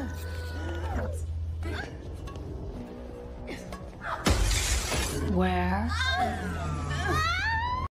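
A glass door smashed in a film scene, a sudden loud shattering crash midway amid whimpering and crying voices, with glass fragments scattering afterward under ongoing cries.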